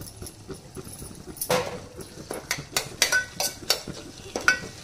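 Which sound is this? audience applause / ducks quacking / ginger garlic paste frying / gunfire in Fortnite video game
ginger garlic paste frying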